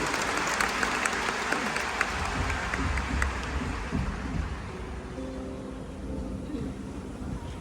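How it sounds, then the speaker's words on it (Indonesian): A church congregation at a Christmas service claps together, a broad wash of applause with a few sharper individual claps standing out, gradually easing in level toward the end. "kita berikan tepuk tangan yang meriah buat Tuhan Yesus."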